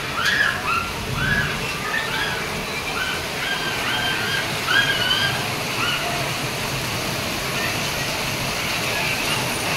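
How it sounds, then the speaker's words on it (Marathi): The first monsoon rain falls in Surat as a dense, steady broadband wash of water, close and continuous, while a person talks over it. "पहिला पाऊस पडायला लागलाय"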